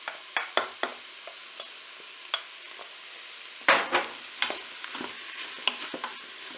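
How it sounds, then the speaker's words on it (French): A red bell pepper goes into a Cookeo multicooker and fries with chicken and paprika, giving irregular sharp sizzles and scraping stir clicks close up, with quiet gaps between bursts and no voices. "maintenant, je vais rajouter le poivron rouge"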